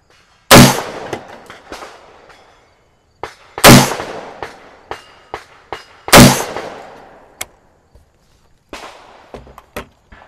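Three loud, sharp rifle shots ring out a few seconds apart on a shooting range while a rifle is being zeroed, each followed by a decaying echo, with fainter clicks and handling noises between them.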